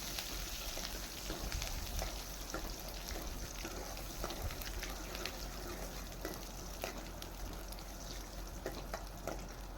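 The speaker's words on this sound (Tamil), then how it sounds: "பூண்டு நல்லா எண்ணெயிலே நல்லா வேகும்" Chopped garlic frying in oil with fenugreek seeds for a bitter gourd curry, giving a steady, soft sizzle that runs evenly throughout, close by and fairly quiet.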